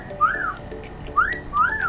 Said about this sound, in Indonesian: Ini saya merekam suara siulan